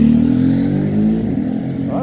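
A big motorcycle engine revs loudly and close, its steady growl rising and falling over about two seconds, with voices talking over it.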